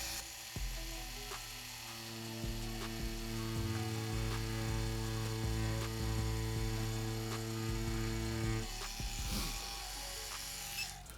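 A tattoo machine fitted with a magnum needle grouping shading skin, a steady low electric buzz with a constant hum running throughout, fairly quiet and without talk.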